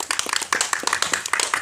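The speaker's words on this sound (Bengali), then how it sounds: "সবাই একটা হাততালি দেন" A small group claps hands together during a flower garland-making contest, brisk uneven claps close by in a short, lively burst without speech.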